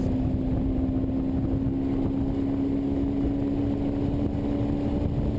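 A Honda S2000 drives hard on a race track during an SCCA time trial, its engine a steady loud drone with a sustained tonal whine and wind roar from inside the car, no talk.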